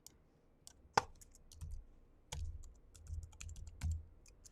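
Computer keyboard typing in a quiet room: a handful of sparse, sharp key clicks and clacks with short pauses between them, close and fairly faint, with no voice.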